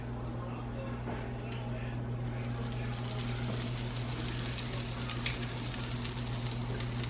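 Chicken frying in oil in a pan gives a steady, close sizzle with a constant low hum running underneath throughout.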